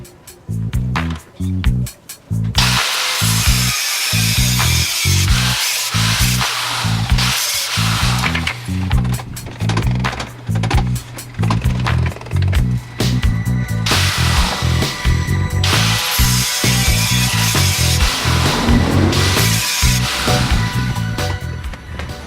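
Excess metal is cut off steel seat brackets for a Mazda Miata with a power cutting tool, loud harsh grinding in long bursts broken by short pauses, close up and with no voices.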